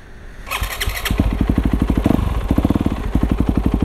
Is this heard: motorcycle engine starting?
yes